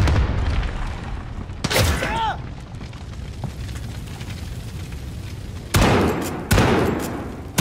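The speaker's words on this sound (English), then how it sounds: "Allied cruise missile on the way." Cruise missile strike explosions in a video game, a deep boom followed by rumbling and two more sharp blasts close together near the end.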